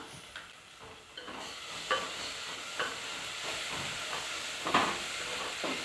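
Chopped tomatoes sauté in hot oil in a pan for a vegetable drumstick biryani, giving a steady close sizzle broken by scattered stirring scrapes and clicks, with no talk.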